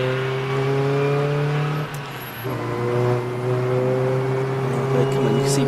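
BMW Compact race cars circulate at Silverstone's GP circuit during a relay race, their engines droning with strong tones that shift in pitch as cars pass, a continuous fairly loud motor roar.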